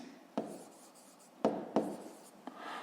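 A pen writes a math answer on paper in a quiet room, with soft scratchy strokes broken by a few sharper taps as letters and brackets are marked.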